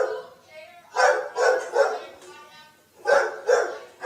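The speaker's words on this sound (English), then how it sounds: "Tammy, we can't hear you because of the dog." A dog barks in a series of loud, sharp, close barks, some yelping, heard over a phone-like line with faint talk underneath.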